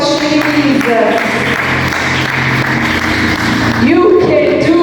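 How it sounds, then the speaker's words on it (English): A church congregation clapping hands together, a dense continuous wash of applause throughout, loud and close, with a voice calling out over it. "Clap hands for Jesus."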